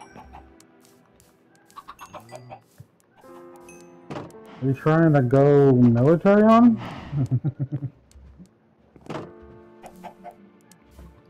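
Chickens cluck in the Minecraft video game in short, repeated bursts, with a louder run of clucks in the middle, close and clear. A person talks between the clucks.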